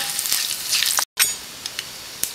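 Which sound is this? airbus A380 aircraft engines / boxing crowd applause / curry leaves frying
curry leaves frying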